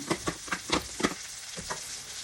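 Chopped cabbage going into frying pancit canton: a steady sizzle with rhythmic clattering tosses and stirs in the pan, close and moderately quiet, no speech.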